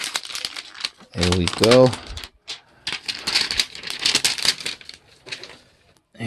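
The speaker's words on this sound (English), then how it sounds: "So let's take it out of the plastic." An LG V60 phone pulled from its plastic wrapping, with a burst of loud, close crinkling and rustling of plastic and a few sharp taps, while a person speaks briefly.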